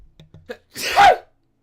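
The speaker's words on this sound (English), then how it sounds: "Did you hear that sneeze? Yes, that was pretty loud." A single loud sneeze close up in World of Warcraft: Legion, preceded by a couple of quick sharp intakes of breath, then silence.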